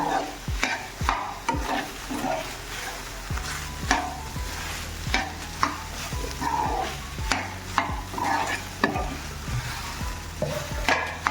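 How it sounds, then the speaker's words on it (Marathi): A spoon scrapes and stirs soya chilli in a hot pan, repeated clattering strokes over a steady sizzle, close and moderately quiet with no talking. "व्यवस्थित मिक्स करून घेऊया"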